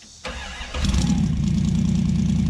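A 1966 Dodge Dart GT with a 273 V8 and a big NASCAR-style cam cranks briefly, then fires and settles into a loud, steady, lumpy idle close by.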